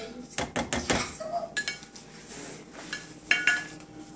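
Clams stirred in a metal soup pot give a rattling run of hard clinks and clatters against the sides, close and uneven in rhythm, with a few sharper knocks near the end and faint speech in the background.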